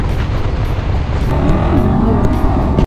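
A Shelby Hertz Mustang drives along a road on a long road trip, giving a loud, continuous rumble of engine and road noise throughout.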